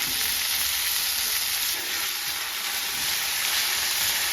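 Thinly sliced large onion sautéing in hot oil for millet rava kichadi, a steady, loud, close hissing sizzle without pause.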